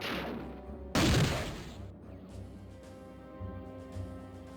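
Weapon fire in the video game Worms Armageddon: one sudden loud burst of shot or blast that decays over about a second, followed by quieter background game music.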